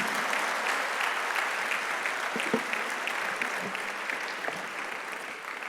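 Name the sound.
audience applause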